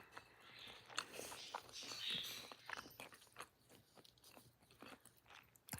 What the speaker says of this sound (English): Can y'all hear me chewing?